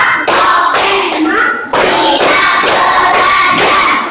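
A class of students claps in unison during an ice-breaking clap game, with sharp rhythmic bursts of clapping grouped in counted patterns under a lively, loud classroom.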